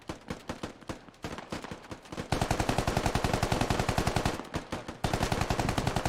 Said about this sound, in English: he's shooting through the walls